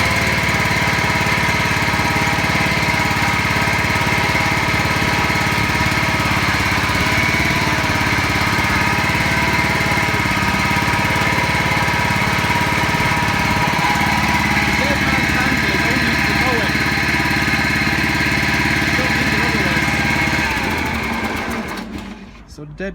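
A Ferris Hydrowalk Commercial SD 32 walk-behind mower starts from cold and runs as a loud, steady engine drone close by, lasting about twenty seconds before it winds down and stops at the end.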